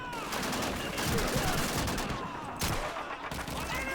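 MG42 machine gun fire from the World War II shooter Call of Duty 2 during a Rhine crossing battle, rattling in dense, continuous bursts with brief gaps amid a loud, chaotic wash of combat noise.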